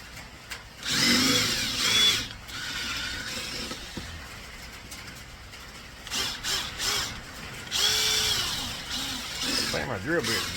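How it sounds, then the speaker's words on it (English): Power drill with a dull bit boring into a scrap electrical component held in a vise, bursts of grinding whine that rise and fall in uneven spurts, with quieter handling sounds between. "I think my drill bit's dull"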